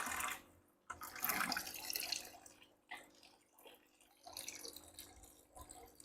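Water released through an aquarium drain valve gushes along a narrow return pipe, a close, splashing flow that surges and drops in uneven bursts with brief near-silent gaps.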